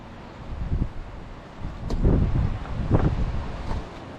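Gusty wind buffeting the microphone outdoors while fishing line is tied, low rumbling swells rising and falling, with no voices.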